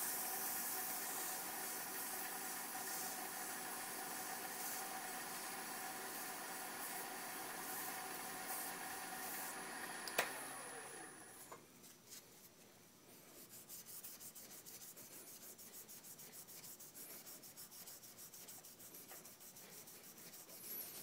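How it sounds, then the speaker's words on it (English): An acrylic pen blank is sanded by hand with 400 grit sandpaper, giving a steady, loud, hissing rub for about ten seconds before the sound abruptly drops to a quieter, rougher scraping that continues to the end. "And last, on the regular sandpaper, will be 400 grit."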